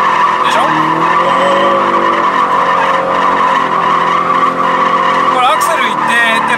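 A Toyota 86/BRZ drifts with its tires skidding and squealing continuously under a loud, steady engine roar, close and intense throughout, with a sharper squeal burst near the end.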